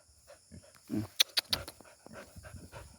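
A dog pants and snuffles close by, with a few sharp short yips, fairly quiet overall.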